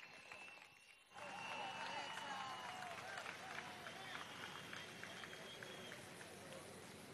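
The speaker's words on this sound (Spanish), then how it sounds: "Voy a pedir un fuerte aplauso para esta mujer patriota, Rosbexa Poleo" Audience at a Youth Day political rally at Venezuela's National Pantheon breaks into loud, sustained applause and cheering after a brief quiet moment, a dense crowd roar that holds steady to the end.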